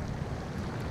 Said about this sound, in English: The water is like mad loud,